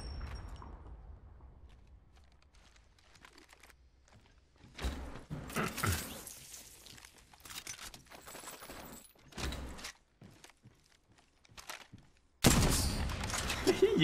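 Bursts of gunfire from the video game Apex Legends, quick rattling volleys between quieter stretches and a loud final burst, with a voice talking intermittently.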